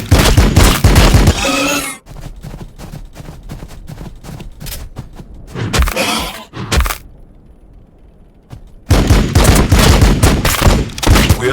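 Heavy support gunfire in Warhammer 40k Battlesector, loud sustained automatic bursts and rapid repeated shots, dropping to sparse cracks and a short near-silence before another heavy volley.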